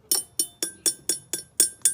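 A knife repeatedly striking an object, seven sharp evenly spaced taps, each giving a bright high-pitched ringing tone that quickly decays, close and clear with no voices.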